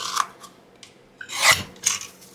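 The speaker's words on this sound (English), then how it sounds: "Put it in the guillotine and cut it at the fold." A paper guillotine slices through a folded index card with a sharp scraping chop at the middle. Lighter rasping and handling scrapes come before it and after it, with no voices.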